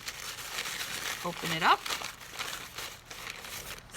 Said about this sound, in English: take another piece, do the same thing, crumple into a ball. The harder and tighter you crumple, the more wrinkly it's going to be.